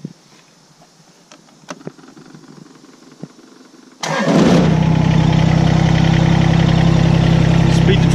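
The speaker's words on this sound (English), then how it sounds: "I'm going to go ahead and start the tractor." After a few quiet clicks and knocks, a Kubota tractor engine cranks and roars to life at once, settling into a loud, steady idle nearby.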